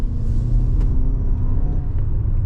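A 2026 Toyota RAV4 SE plug-in hybrid with all-wheel drive accelerates in sport mode, heard from inside as a deep, steady road and powertrain rumble with light faint clicks, no voices.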